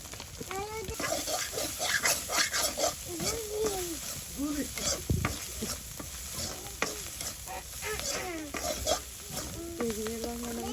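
Small icha river fish frying with salt and turmeric in a village kitchen, a soft sizzle with scraping and stirring strokes, running beneath someone talking.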